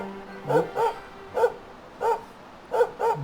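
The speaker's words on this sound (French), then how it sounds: "Bob le chien." A dog in Dragon Quest XI on PC barks in short, sharp, close bursts, about seven of them in loose pairs with brief gaps.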